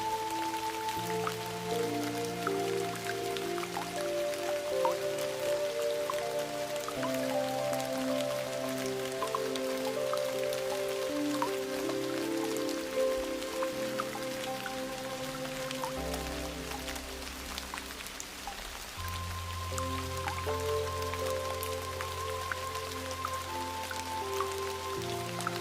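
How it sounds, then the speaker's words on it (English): Steady rain falls in a continuous, even patter beneath soft, sustained ambient music tones, with no voices and no change in intensity throughout. "The rain continues its steady rhythm, timeless and kind."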